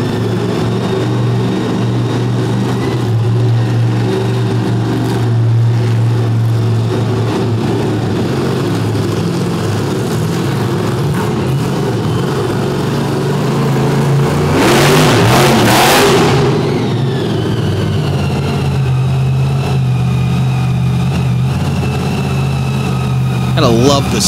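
A supercharged blower engine in the Plain Crazy Chevrolet race car driven by Buddy Tompkins at a Davie destruction event, loud steady idle and blower whine with a surging rev burst midway, a commentator talking over it.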